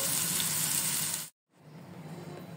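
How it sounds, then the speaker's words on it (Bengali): Coriander leaves frying in a little oil with a steady, close hiss of sizzling that cuts out briefly, then returns a bit quieter. "আর হালকা তেল, মানে অল্প তেল দিয়ে আমি এটা ভেজে নিচ্ছি 1 মিনিটের মতো"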